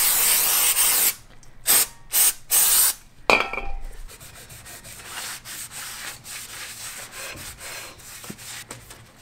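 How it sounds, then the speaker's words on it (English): Brake cleaner sprays onto a car brake caliper in several sharp hissing bursts, one long blast followed by three short ones and a final spurt, then quieter handling sounds; close and loud, no talking. "I'm gonna go ahead and hit it with one more blast of brake cleaner."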